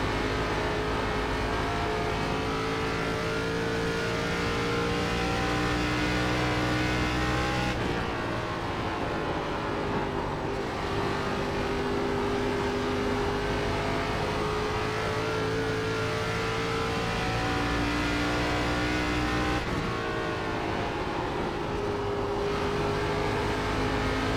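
An ARCA stock car roars steadily around Rockingham in the iRacing sim, the engine droning loud and continuous with gear-shift dips and rising pitch through the lap, no talk.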